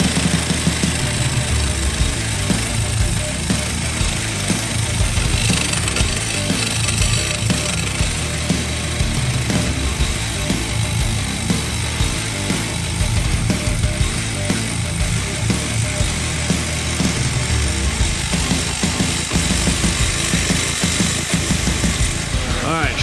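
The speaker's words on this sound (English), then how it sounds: "So I trimmed off all that nasty stuff with the Sawzall." A Sawzall reciprocating saw cuts off metal from a hanger, a loud, continuous dense grinding rasp that runs steadily through the whole stretch with a faint voice underneath.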